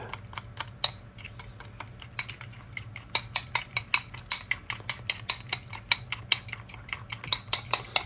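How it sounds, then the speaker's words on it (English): Natto beans are stirred in a bowl with chopsticks, making rapid, rhythmic clicking taps against the bowl that speed up and grow steadier over time, close and fairly quiet. "And she's gonna start stirring."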